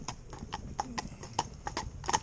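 A horse's hooves clip-clop in a steady walking rhythm, about a dozen crisp, fairly close strikes on a hard surface, while the horse is hitched to a cart between shafts.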